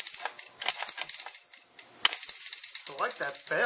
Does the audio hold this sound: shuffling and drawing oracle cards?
no